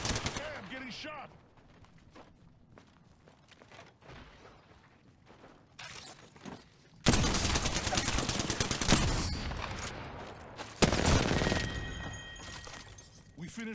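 Gunfire in the battle royale game Apex Legends, with loud bursts of shots in two dense stretches after a quieter start, mixed with game sounds and a voice talking.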